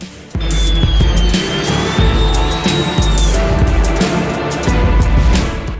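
A high engine whine slides in pitch as an airplane passes low overhead, over loud, rhythmic thumping and heavy rumble.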